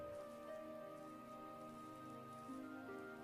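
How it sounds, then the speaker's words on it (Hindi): Light rain falls in a soft, steady patter, faint and even throughout, over a quiet tonal musical background. "बस कुछ हल्की हल्की बूंदें बरस रही थीं।"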